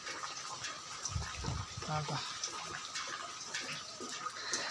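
Steady monsoon rain patters and splashes on wet ground and puddles, a continuous wash of droplets with occasional louder drips and low thuds close by.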